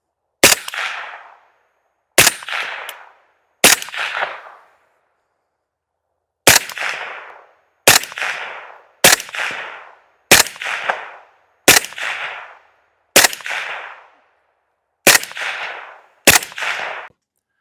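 An AK-pattern Honey Badger rifle fires at steel targets outdoors. Eleven loud, sharp single shots ring out, each followed by a short decaying echo. They start spaced apart, then come in a quicker steady rhythm with a brief pause between groups.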